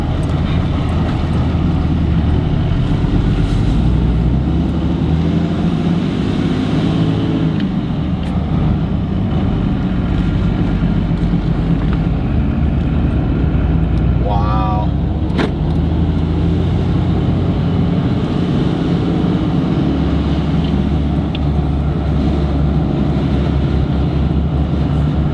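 A large Ram pickup truck cruises along, with a steady loud engine drone and road roar filling the cabin, unbroken throughout with no talk.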